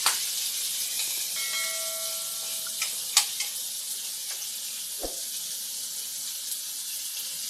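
Onions frying in a pan for Punjabi-style moong dal, a steady close sizzle throughout with a few light clinks and a faint tone partway, and no talk.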